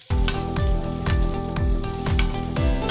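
Garlic sizzles steadily in hot cooking oil for a Filipino catfish soup, a loud continuous frying hiss punctuated by a regular series of stirring or scraping strokes, with no voices.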